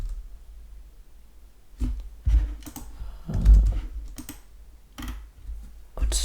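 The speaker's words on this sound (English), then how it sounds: "come to the terminal, just type in node and the name of the file" A computer keyboard is typed on in a terminal, producing sparse, irregular key clicks and a few heavier taps close up in a quiet room.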